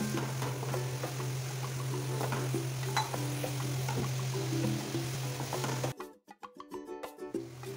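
Onion cooking in a pan for a Maharashtrian val bean dish, with a steady close sizzle and the scrape of stirring that stops abruptly, leaving sparse clinks and faint crackles.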